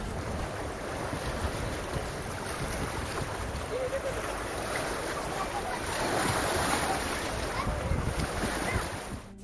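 Swollen Parvati or Kali Sindh river in Baran, Rajasthan, surging after six dam gates were opened, a loud continuous broadband roar of rushing water with wind buffeting, swelling slightly louder midway and holding steady throughout.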